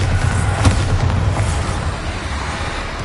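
A Bombarda spell explodes in the video game Hogwarts Legacy, giving a loud booming blast with a sharp burst near the start and then a broad rumble that fades out. No voices are heard.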